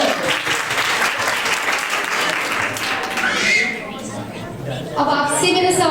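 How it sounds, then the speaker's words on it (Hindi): Audience applause breaks out at a Christmas quiz program, a dense, steady wash of clapping from a crowd, loud throughout with a brief dip before swelling again, with some voices mixed in. "तालियां बजाओ।"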